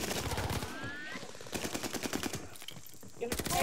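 Repeated bursts of automatic gunfire in the shooter Call of Duty: Vanguard, a search-and-destroy match, rattling in several rapid volleys with short gaps, loud and close.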